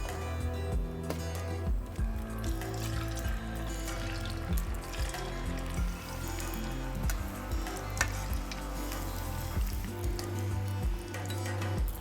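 Chips sizzle and crackle steadily in hot oil in a kitchen where lobsters are also cooking, a dense, close frying hiss that carries on alone without letup.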